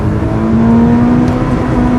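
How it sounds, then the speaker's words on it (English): A 2008 Subaru Impreza WRX STI or Mitsubishi Lancer Evolution X launches from standstill at full throttle in first gear, its engine droning loud and steady as revs climb under heavy load, heard close from inside the car. "Against the brakes, full throttle, away we go."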